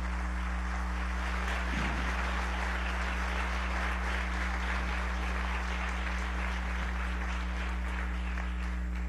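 Applause during a session of the National Constituent Assembly, a sustained wash of many hands clapping together that fills the whole stretch evenly over a low steady hum.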